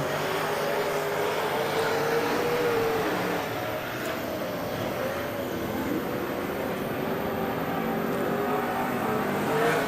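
Speedway race cars roar at the start of a race, a dense, loud, continuous engine drone with revving filling the whole stretch, heard from trackside with no clear talk.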